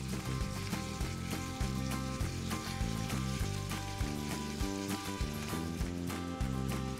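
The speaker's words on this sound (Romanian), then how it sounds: "Și le voi lăsa să se călească pentru 3-4 minute." Beef pieces and onion sauté in oil in a pot, a steady loud sizzle and crackle running continuously throughout with no talk.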